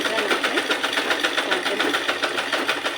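A sewing machine stitches a border strip, its needle hammering in a rapid, steady, even pulse that carries loud and close from start to finish with no pause.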